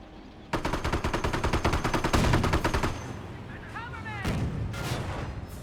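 A jeep's machine gun rattles in quick, steady bursts during a Company of Heroes battle, moderately loud and continuous for a couple of seconds before fading into scattered distant fire and a voice speaking.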